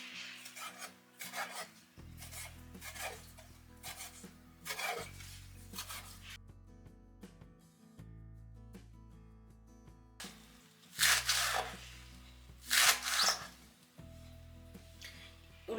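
A knife cutting spring onion stalks for an egg stir fry, giving quiet scraping and chopping strokes against a board in irregular bursts, with a few louder cuts near the end.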